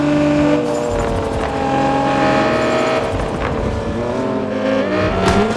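Race cars roaring around the Nürburgring in the racing video game CPM2, with loud sustained engine tones shifting pitch as cars accelerate and pass, steady and continuous throughout.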